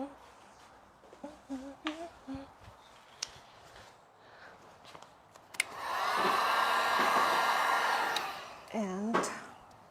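A heat gun blows steadily for several seconds while warming dead matte black vinyl wrap on a Tesla Cybertruck, a loud broadband hiss that swells and fades, with scattered handling clicks and brief hums before it.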